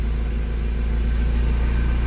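A Honda Civic engine idles at about 750 to 800 RPM, after a throttle body relearn, as a steady, close, even low rumble with no revving.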